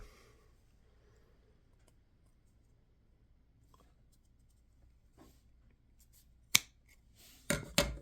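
Scissors snip through string for a garland in a quiet room: a single sharp cut, then a couple of louder clipping snaps close by, with faint handling noise before.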